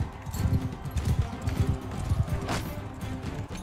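A horse gallops in the Mount and Blade Bannerlord video game, its hooves pounding in quick, continuous thudding beats up close, with battle clatter layered around them and no talk.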